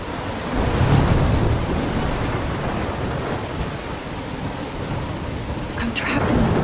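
A thunderstorm with heavy rain in Life Is Strange: a loud, constant downpour with deep rolling thunder swelling near the start and again at the end.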